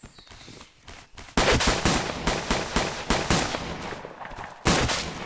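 Rapid bursts of gunfire in the survival video game Survive The Nights, loud sharp shots firing repeatedly in quick succession after a quieter opening, with no talking.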